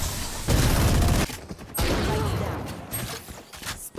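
Bursts of gunfire in the tactical shooter Valorant: a loud, dense volley, a brief lull, then another sustained stretch of shots fading into scattered lighter sounds near the end.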